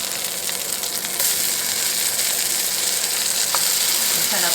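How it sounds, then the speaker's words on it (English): Tomatoes sizzle steadily in a hot pan while breakfast is cooked, a dense close crackling fry that grows a little louder after the first second and continues without a break. "we'll lay the tomatoes in the pan and get them going"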